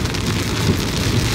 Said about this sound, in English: today is a very rainy day